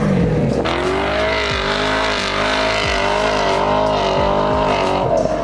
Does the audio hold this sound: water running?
no